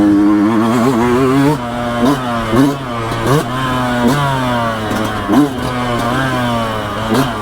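A Yamaha YZ125X two-stroke dirt bike revs hard on a dual trail for ATVs and dirt bikes, its buzzing engine rising and falling in quick repeated bursts as the rider shifts and throttles, loud and close.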